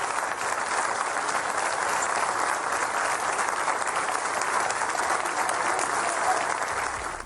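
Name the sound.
applause at United Nations for Gustavo Petro's speech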